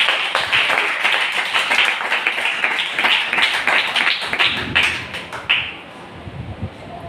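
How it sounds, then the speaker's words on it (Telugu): A congregation claps hands together during a night fasting prayer worship service, loud, fast and continuous rhythmic clapping from many people close by, fading out near the end. "ఒక్కసారి చప్పట్లు కొడుతూ ప్రభు"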